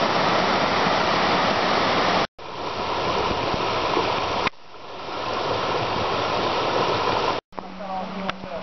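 Rushing water of Martin Creek below Martin Creek Falls in the North Georgia mountains, heard near a footbridge on the trail as a loud, steady broadband roar, broken by a few brief cuts.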